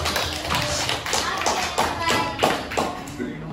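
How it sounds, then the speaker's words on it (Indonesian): A studio audience applauds guest speakers at an Indonesian talk show, scattered claps landing in a loose, uneven rhythm for a few seconds with no one speaking. "Coba dong tepuk tangan buat narasumber ini"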